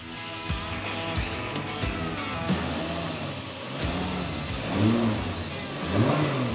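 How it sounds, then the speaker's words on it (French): A Volkswagen Golf 3 VR6 engine revs hard and repeatedly, rising and falling in steady surges, loud and close with no voices. "ça fait plaisir d'entendre rugir le VR6"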